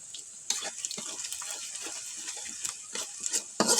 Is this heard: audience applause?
no